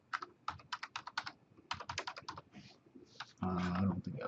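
Quick bursts of clicking keystrokes on a computer keyboard as a password is typed, two runs of rapid taps close up, followed by a voice speaking at the end.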